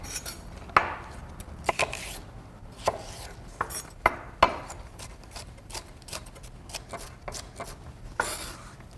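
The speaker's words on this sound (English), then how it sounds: "I'm going to grab a couple ribs of celery and chop about the same amount of celery as I have carrots" Knife chopping a couple of celery ribs on a board, a quick series of sharp, crisp taps with irregular pauses, close and moderately quiet, no voices.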